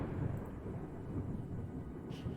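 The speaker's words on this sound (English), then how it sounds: "the thunder's so loud" Loud rolling thunder rumbles steadily through a naval battle in Ultimate Admiral: Dreadnoughts, a dense low roar with no talk over it.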